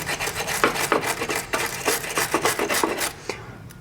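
A wire brush scrubs a seized steel brake pipe union on a Mini R52, quick rasping strokes in short irregular bursts, close and fairly loud, with no talking.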